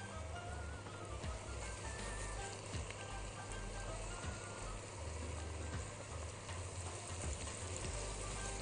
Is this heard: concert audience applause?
no